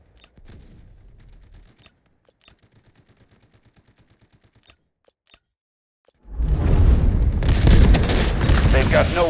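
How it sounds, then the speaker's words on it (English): Heavy artillery blasts and dense gunfire erupt partway through a Delta Force Hawk Ops battle, loud and sustained after a quieter stretch of faint clicks and a low voice. "Artillery cover coming."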